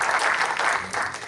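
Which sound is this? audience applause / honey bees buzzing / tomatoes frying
audience applause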